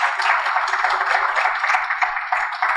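A church congregation applauds as an offering of praise, many hands clapping together in a loud, dense, sustained wash that carries through the hall without a break.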